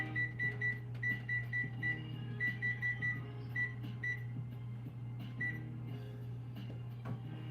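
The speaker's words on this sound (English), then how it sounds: "I'm going to put 30 minutes on the timer just so I don't forget about it" An oven timer is set to 30 minutes during barbecue prep, giving a run of short, sharp electronic beeps in quick, uneven bursts over a steady low appliance hum, with no talking.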